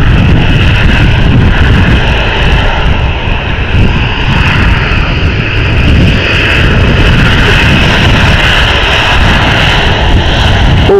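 A passenger airplane on the Malta Air Venice flight at Stansted Airport roars past, a loud, sustained engine rumble and whine with wind buffeting the microphone, no voices.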